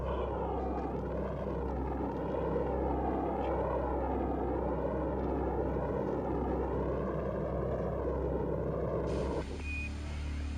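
Launch of a Saturn rocket for Apollo 11, heard as a constant, heavy roar with a slowly wavering rumble, steady and distant-sounding throughout before an abrupt change at the end.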